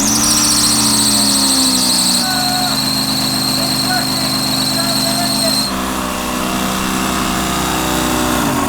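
A car engine fitted with a cheap Amazon supercharger runs loud on a dyno, a steady high-pitched supercharger whine layered over deep engine drone, shifting pitch a couple of times as revs change, with no speech over it.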